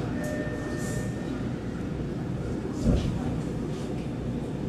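A Keio 8000 series commuter train pulls out of a station on the Keio Line, a steady low rumble of wheels and motors at moderate distance, with a brief louder thump partway through.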